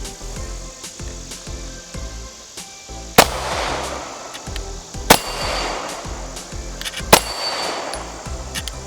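Live firing at a target during protective-services weapons training, with three sharp, loud gunshot reports spaced about two seconds apart over a faint, steady background of rhythmic ticking.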